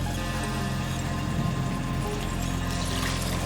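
Coconut milk poured into rice in a pot for pulao: a steady, soft liquid pour running continuously at close range, faint and unbroken, with no talking.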